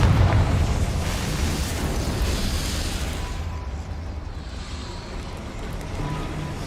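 A Confringo fire spell blasts in Hogwarts Legacy, a loud roaring burst of fiery noise that fills the scene and slowly eases into a rumbling wash.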